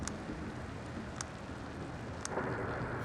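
Thunderstorm in The Invincible video game: steady rain hiss and low rumble with a few sharp crackling bursts, continuous and fairly close.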